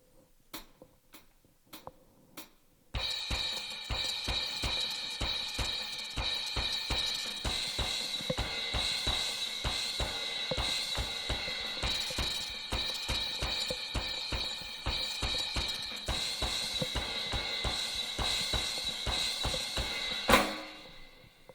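Steady repeated drum strokes on a drum set's cymbals with sharp clave accents ring out in a driving Afro-Caribbean pattern for about twenty seconds, opening with a few sparse clicks and ending on a crash.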